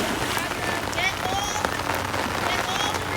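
Steady rain pattering on a surface, a continuous close wash of drops lasting throughout, with no voices.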